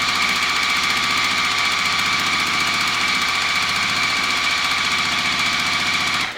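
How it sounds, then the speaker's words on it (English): A sewing machine stitches quilt fabric pieces in a straight line, a loud, steady mechanical whir with rapid needle pulsing that runs unbroken for several seconds before stopping. "we're just going to sew straight down"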